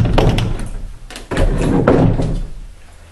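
Closet doors in a house bedroom area are handled nearby, giving a series of dull knocks and sliding rumbles with a firm thud at the midpoint.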